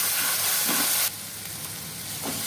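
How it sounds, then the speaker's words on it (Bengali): Onions sizzling steadily in a hot pan, a loud broadband fry that drops slightly in intensity partway through, with faint stirring. "পেঁয়াজটা আমি একটু ভেজে নিচ্ছি ভালো করে"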